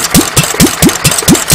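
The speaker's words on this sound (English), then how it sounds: "But you can see the governor is actually working. The engine slows down," A Petter A1 stationary engine runs with its governor working, a loud, close, rhythmic chuffing of regular firing beats about four to five per second, with no voices.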